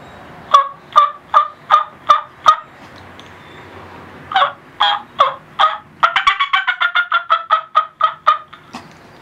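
A turkey call imitates a turkey hen's fly-down cackle: sharp, rapid yelping notes in short bursts that speed up into a fast run near the end, close and clear with no talking.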